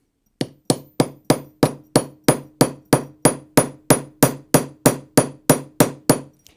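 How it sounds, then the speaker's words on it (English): A hammer's flat face strikes the end of a copper bracelet being forged, about eighteen evenly spaced, ringing metallic blows in a steady rhythm, loud and close with no talking. "I'm going to use the flat surface of the hammer and just flatten it out."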